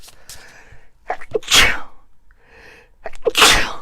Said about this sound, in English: I'm holding back a sneeze that you would not believe right now.